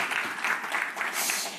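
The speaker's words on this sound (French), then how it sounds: "on peut vous applaudir encore" Audience applause during a French tech evening event, a steady wash of clapping hands filling the whole short stretch at moderate loudness with no clear pauses.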